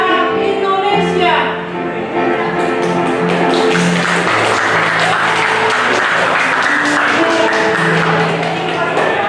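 An audience of adults claps in sustained applause at a teachers' module discussion session, the clapping rising under a speaking voice with music-like tones early on and continuing loud and dense to the end.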